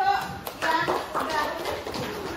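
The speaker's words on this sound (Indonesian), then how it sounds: "kita kasih aplaus" A brief patter of clapping for a third-place winner, light and scattered, mixed with a person talking over it.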